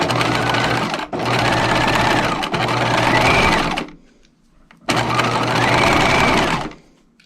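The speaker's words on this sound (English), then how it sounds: "switch your machine length to 5 millimeters, and then at 1/2 inch, just baste those raw edges together" Close up, a sewing machine bastes raw fabric edges together with a long 5 mm stitch, running in steady whirring bursts with brief stops between them.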